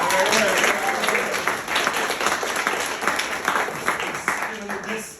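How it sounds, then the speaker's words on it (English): Crowd at a live comedy-style stage show applauds the booth technician, steady mixed clapping with voices talking over it throughout. "Let's give Eric a round of applause."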